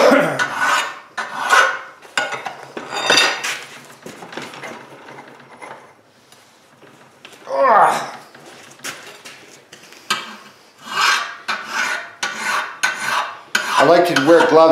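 A tomahawk head is hand filed with a metal file, a series of loud, close, gritty rasping strokes in uneven bursts with brief pauses between them.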